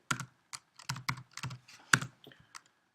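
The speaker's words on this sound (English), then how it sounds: "I type the captcha below here" Typing a captcha on a computer keyboard: a sparse run of about a dozen distinct key clicks, close and clear, with uneven pauses between short bursts and no talking.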